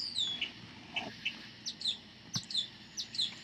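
Several birds chirp and tweet in a bamboo tree at night, repeated short high calls arriving in quick bursts over a faint steady background hum, fairly close and clear.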